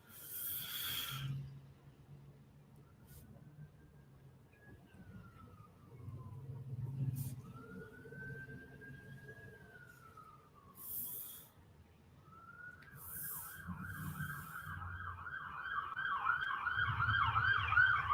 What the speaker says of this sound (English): That is definitely an ambulance.